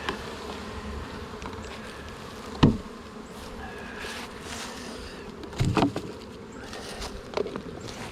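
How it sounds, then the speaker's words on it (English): Honey bees buzz in a half-cup sample scooped for a mite check, a steady close insect drone with a couple of louder knocks and rattles of the cup as they are handled. "Let's put a half a cup of bees in here."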